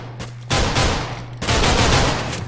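Rapid gunfire in the Minecraft Mineplex minigame, two loud dense bursts of automatic fire, the first shorter and the second longer, separated by a brief pause.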